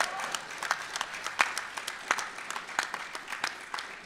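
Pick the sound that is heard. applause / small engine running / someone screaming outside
applause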